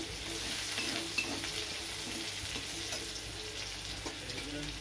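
Chopped garlic frying in oil in a wok, giving a steady close hiss with faint stirring scrapes throughout and no speech.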